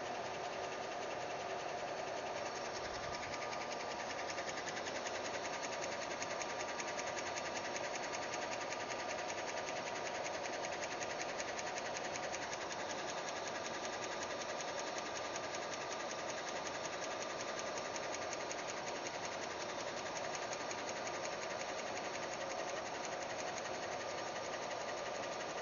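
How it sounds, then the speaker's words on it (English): Trotec laser engraver with a rotary attachment working on a handled mug, a steady continuous mechanical hum and whir with constant loudness and no voices throughout. "then the next logo starts engraving"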